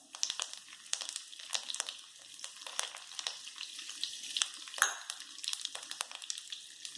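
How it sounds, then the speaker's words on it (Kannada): Curry leaves crackling in hot oil with popping mustard seeds while tempering for masala dosa filling, a steady close sizzle broken by frequent sharp pops and spits, with no talking. "ಸಾಸಿವೆ ಸಿಡಿಯುವಷ್ಟೊತ್ತಿಗೆ ಕರಿಬೇವು ಹಾಕೊಳ್ಳೋಣ."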